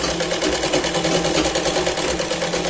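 A sewing machine runs steadily while stitching a Punjabi dress, giving a close, continuous mechanical whir with rapid needle rhythm and no pauses.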